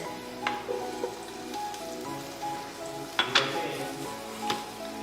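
Garlic and onion sizzle in hot cooking oil in a pan, a steady close crackle with soft stirring clinks and a few sharper spatters, no talking.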